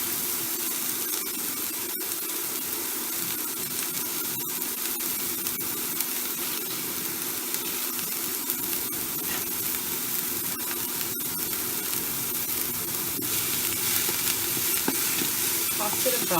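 Fresh garlic and shallots sizzling in a pan for prawn and clam spaghetti, a continuous close hiss with occasional sharp clicks of utensils.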